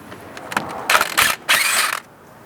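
A wrench or ratchet works a bolt out of the steering knuckle of a 2003-2007 Honda Accord, with several short metallic clicks and scraping creaks in close bursts, no talk.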